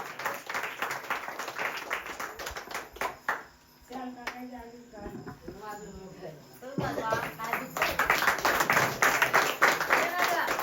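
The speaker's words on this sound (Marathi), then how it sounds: "जोरात टाळ्या वाजवायचे आहेत माझ्या भावासाठी विजय सकाराम निकम" Audience applause at a village felicitation and thanks ceremony in Pathe, Maharashtra, clapping for an honoree; dense clapping fills the opening, thins under a speaking voice mid-clip, then swells loud again toward the end.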